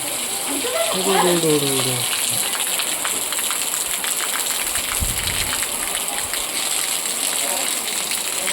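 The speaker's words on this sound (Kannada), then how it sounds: "ವರ್ಷದ ಮೊದಲ ಮಳೆ ನಮ್ಮ ಹೊಸಪೇಟೆಯಲ್ಲಿ ಬಂದಿದೆ" Steady first rain of the year in Hosapete patters and hisses on surfaces close by, a dense continuous wash, with a voice speaking briefly near the start.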